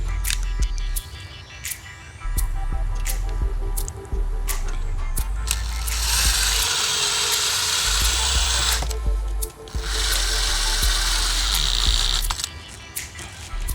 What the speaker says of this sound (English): I'm going to go ahead and screw this back on.